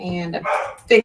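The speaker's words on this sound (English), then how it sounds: "Sorry about the dog." A dog barks once, loud and near, at the very end, right after someone speaking closely at a card-making table.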